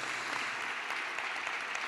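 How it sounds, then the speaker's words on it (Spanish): Brief, faint applause for an award winner at a wine-tasting masterclass, a steady, dense patter of many hands heard from a distance without voices. "Otro aplauso que lo merece, muchas gracias."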